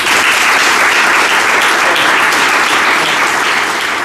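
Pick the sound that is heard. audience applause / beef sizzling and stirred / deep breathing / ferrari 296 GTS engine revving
audience applause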